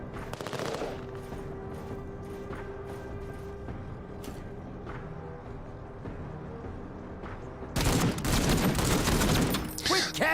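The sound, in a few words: gunfire in the video game MENACE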